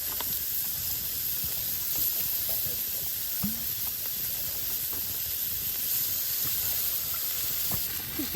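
Steaks sear over a backcountry campfire, producing a continuous hissing sizzle with scattered small pops and crackles, fairly close and steady, with no voices.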